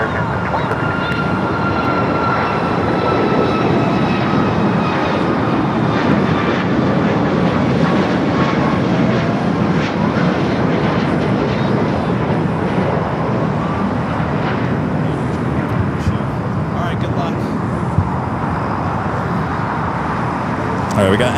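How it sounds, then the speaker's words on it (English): An Alaska Airlines Boeing 737 MAX 9 takes off from runway 25 right at LAX, its jet engine roar loud and sustained throughout, a broad steady rush. "Flight taking off was Alaska Flight 1368 heading to Seattle, a 737 MAX 9."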